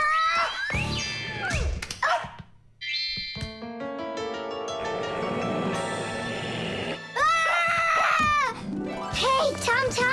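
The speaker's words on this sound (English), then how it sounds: "tell your rabbits that they can stop barking so loudly" Cartoon rabbits bark loudly in repeated yelping bursts, mixed with animated character voices talking and exclaiming between and over the barks.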